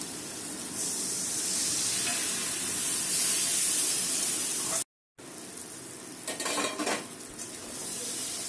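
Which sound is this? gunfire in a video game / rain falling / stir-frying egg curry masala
stir-frying egg curry masala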